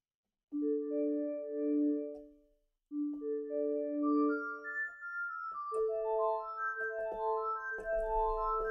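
A wavetable patch on Logic Pro X's Retro Synth plays sustained tonal chords, two held phrases with a short gap, then a brighter rising arpeggiated run of stacked notes, clear and alone with no talking.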